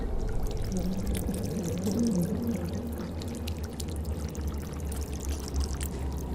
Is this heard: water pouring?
yes